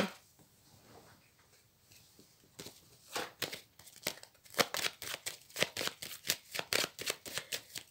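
A deck of tarot cards being handled, a soft rustle at first, then a run of crisp, close riffle-shuffle bursts that grow louder and come in quick rhythmic succession.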